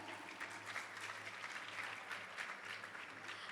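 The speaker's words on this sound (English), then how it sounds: "A big round of applause for our amazing band." Steady applause from a school audience at an annual prize day, following a band performance; faint, distant clapping that runs unbroken throughout with no talk.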